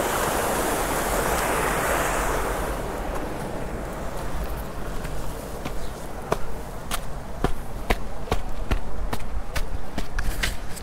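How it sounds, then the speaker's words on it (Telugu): Water rushing forcefully from a reservoir channel near Hampi, a loud, steady roar of flowing water heard up close, with repeated sharp knocks and taps over it later on. "ఎంత ఫోర్స్గా పోతున్నాయి చూడరు నీళ్ళు"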